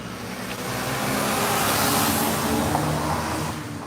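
Road traffic outdoors makes a steady broadband whoosh that swells as a car passes close by, then eases slightly, with no voices over it.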